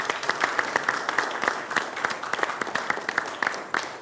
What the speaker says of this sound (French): est-ce qu'on peut applaudir très fort pour lui, s'il vous plaît?